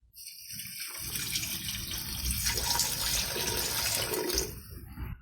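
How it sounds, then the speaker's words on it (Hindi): Water poured into a pressure cooker holding large pieces of meat for Kabuli pulao, a steady splashing gush that starts after a brief quiet and runs continuously for about four seconds before easing off, with no talking. "अब हम इसमें पानी ऐड करेंगे।"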